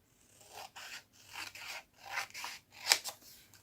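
Scissors snipping through paper or card to cut out a craft piece for a wooden Jenga-block seasonal caravan, several short close cutting strokes in an uneven rhythm, quiet and with no talking.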